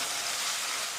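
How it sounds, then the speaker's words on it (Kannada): Ginger garlic paste frying in hot oil for veg fried rice, a steady broadband sizzle that holds at even loudness with no pauses or voices. "ಶುಂಠಿ ಬೆಳ್ಳುಳ್ಳಿ ಪೇಸ್ಟ್ ಹಸಿ ವಾಸನೆ ಹೋಗೋವರೆಗೂ ಎಣ್ಣೆಯಲ್ಲಿ ಫ್ರೈ ಮಾಡ್ಕೊಳ್ಳೋಣ"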